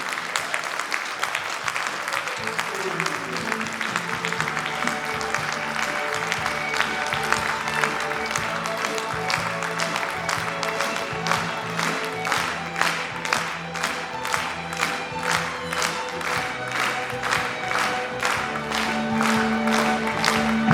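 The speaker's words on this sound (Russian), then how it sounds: "Аплодисменты всем победителям конкурса." Sustained applause from a sizable audience at a contest closing ceremony, starting as scattered clapping and settling into loud, rhythmic unison clapping that continues throughout.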